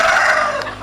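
A rooster crows loudly and close among native chickens and layer hens kept in a greenhouse setting; a single brief call, alone.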